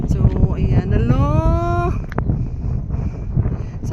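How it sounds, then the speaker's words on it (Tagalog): Strong wind buffets the microphone outdoors at a tourist spot with a giant statue, a steady loud roar under a rising voice and other speech nearby. "Sobrang hangin."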